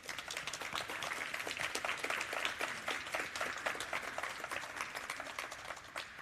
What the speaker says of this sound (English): I think we should give all our 6 participants a round of applause.